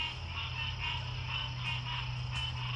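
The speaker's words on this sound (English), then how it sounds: "The frogs are going insane." A dense chorus of frogs croaking continuously at a rainy campsite in Gulf State Park, Gulf Shores, Alabama, many overlapping pulsing calls forming a loud, steady rhythmic din with no talking.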